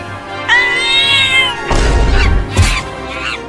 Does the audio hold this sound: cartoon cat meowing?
yes